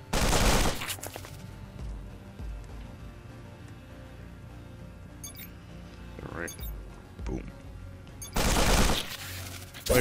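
Assault rifle fire in the video game Sword of the Stars: The Pit comes in loud bursts at the start and near the end. Sharp clinking shell-casing sounds fall in between, with quieter game ambience in the gaps.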